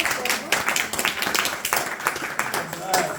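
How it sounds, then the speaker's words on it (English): A group claps together during a devotional Bhagavad Gita study gathering, producing a few seconds of scattered, uneven claps with voices talking over them. "give a round of applause"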